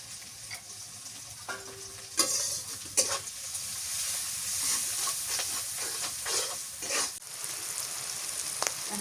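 Food frying with turmeric in a pan gives a continuous close sizzle and hiss, broken by several sharp scrapes and clatters of a spoon against the pan. No one speaks.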